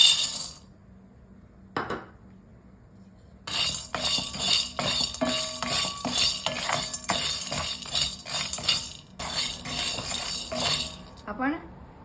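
Dried lentil dumplings (sandge) being roasted and stirred in a hot kadhai, giving a steady run of dry clinking and scraping, loud and continuous for most of the span after a quiet start.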